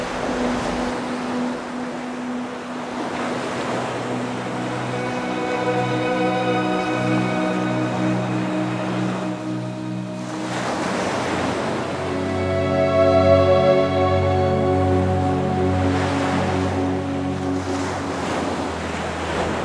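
Ocean waves surge onto a southern Oregon beach as the tide comes in, with broad rushing swells rising and falling repeatedly, mixed with wind noise buffeting the microphone.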